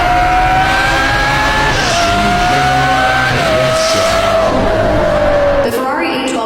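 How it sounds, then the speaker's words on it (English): A Ferrari 812 Superfast's front-mounted 812-horsepower V12 screams loudly as it accelerates hard, its pitch climbing through several upshifts before cutting off near the end, with a faint voice underneath. "The Ferrari 812 Superfast, a front-engine V12 reaching 812 horsepower"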